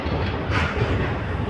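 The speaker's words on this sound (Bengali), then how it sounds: "তিস্তা তোরসা এক্সপ্রেস এই মুহূর্তে ঢুকছে নিউ জলপাইগুড়ি স্টেশনের 1 নম্বর প্ল্যাটফর্মে" The Teesta Torsa Express, hauled by a WAP5 electric locomotive, rolls into platform 1 at New Jalpaiguri station with a loud, close, continuous rumble and faint rhythmic wheel clatter.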